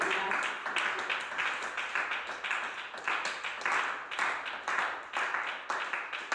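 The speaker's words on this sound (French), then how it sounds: "les applaudissements sont un peu faibles" A small audience gives faint, thin applause in a French training session, with scattered claps arriving in uneven bursts for several seconds.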